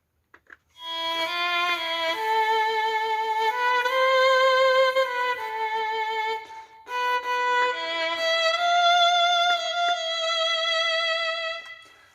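An electronic saxophone plays a legato melodic phrase alone, with a slightly diffuse, soft-edged tone and notes that blend rather than separate crisply.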